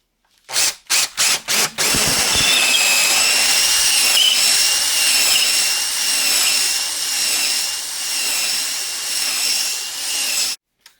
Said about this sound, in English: Just going to wrap this around the drill bit, and then we're just going to put it inside the bore and hone it up.